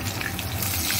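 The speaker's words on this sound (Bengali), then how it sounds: "খুব বেশি ভাজবো না, তো হালকা একটু ভেজে নেবো" Food fries lightly in a pan with a steady, close sizzle and crackle that runs throughout, and no one speaks.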